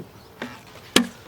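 A metal hive tool pries apart the wooden boxes of a beehive, making two sharp cracking snaps about half a second apart against a quiet background.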